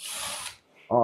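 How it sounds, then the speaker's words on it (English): A ratchet loosens screws on the lock channels of a Goccopro screen printing press, a short hissing burst followed by a brief sharp clicking ratchet stroke, close and fairly quiet. "So we just loosen all the screws so that we can get the lock channels"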